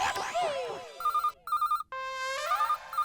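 A phone ringtone rings out in short repeated melodic bursts with electronic tones and swoops, close and fairly loud, in a comedic television scene.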